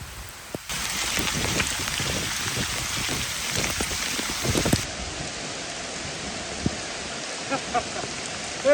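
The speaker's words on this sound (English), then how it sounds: "It's looking more like rain." Rain falls steadily outdoors during a monsoon downpour, a continuous hiss of drops on surfaces. It is loudest early on and eases slightly later, with a few scattered light knocks near the end.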